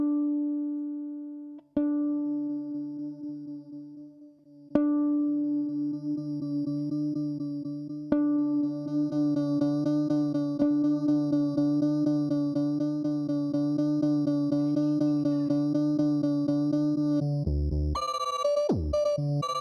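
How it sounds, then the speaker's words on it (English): Onward effects pedal sustaining a steady, harmonically rich tone with a few sharp re-triggered attacks, then a brief glitchy, warbling burst at the end, played alone without talk. "This pedal is called the Onward,"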